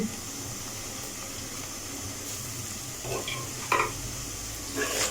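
Soft, steady sizzling of onion and garlic frying in a pan, with a few light scrapes of stirring near the end.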